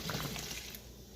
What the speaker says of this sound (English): I'm adding more water to it.